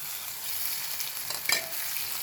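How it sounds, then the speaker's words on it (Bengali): Cubed potatoes frying with spices and green chili for a Bengali pea bhuna give a steady, close hiss of sizzling oil, with one sharper stirring scrape partway through and no talk. "আলু একটু ভেজে নেব মশলার সাথে দিয়ে দিচ্ছি কাঁচামরিচ"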